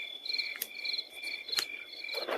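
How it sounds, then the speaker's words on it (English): Loud crickets chirping in pitch-black woods at night, a dense steady trilling chorus that pulses continuously, close and alone with no voices. "They were pitch black and silent, save for the loud crickets."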